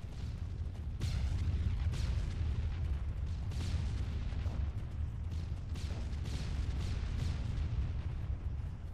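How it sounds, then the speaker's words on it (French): Ammunition cooking off inside vehicles in ARMA III combat, a dense continuous rumble with repeated sharp cracking bursts layered over it, loud and sustained throughout. "C'est les munitions qui sont dans les DSA qui explosent"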